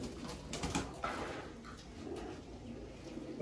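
Several pigeons coo quietly inside a pigeon loft, a soft continuous burbling with faint scattered rustles and no talk.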